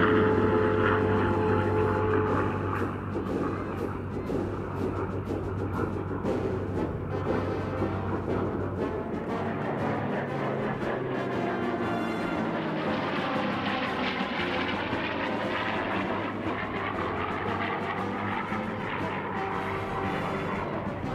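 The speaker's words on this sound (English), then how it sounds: "From your right to your left, the F-15 and P-51 in similar formation." An F-15 Eagle jet and a P-51 Mustang fly past together in formation at an air show. A continuous, loud roar of engines and propeller sweeps across for over twenty seconds, shifting in tone as they pass.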